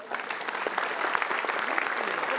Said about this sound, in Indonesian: Main tepuk tangan aja.